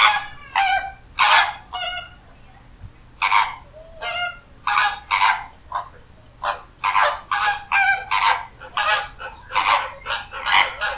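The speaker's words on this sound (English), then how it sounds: "I'm just going to drag and drop this flamingo sample into my Studio One session" A recorded sample of flamingo calls used in a Studio One session: a flock of loud, nasal honking calls repeating in irregular bursts at close range, with no talk.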